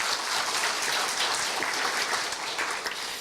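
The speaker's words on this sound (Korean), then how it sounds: "동의하신다면 큰 박수 부탁드립니다" At a Korean university staff retirement ceremony, the audience bursts into loud, close applause, thick overlapping hand claps that continue steadily and ease slightly near the end, with no one speaking.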